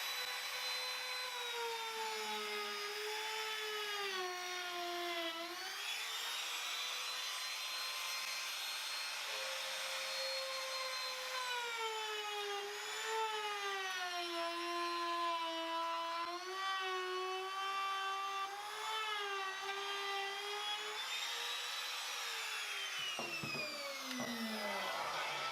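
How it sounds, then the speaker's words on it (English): A router runs steadily around the edge of a plywood jig while shaping a timber cutting board, a continuous high whine with pitch dipping and rising as the load changes, close and loud throughout with no talking. "I made a jig up ages ago so the router runs around the outside of the plywood here"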